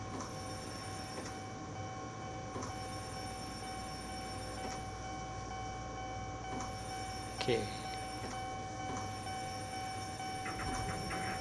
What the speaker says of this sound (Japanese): 電車が来たね。